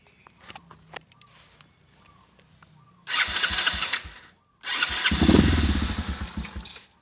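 A Sachs MadAss 50cc motorcycle engine starts after faint footsteps and handling noises. Two loud bursts of engine running follow, separated by a brief pause, with the second settling into a steady idle up close.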